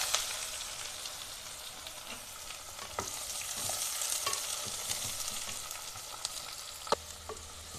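Onions frying in oil seasoned with cinnamon, cloves, cardamom and bay leaf for a Kolkata-style meat dish, a continuous close sizzle broken by sharp spatula clicks and scrapes, one louder knock late on, no voices.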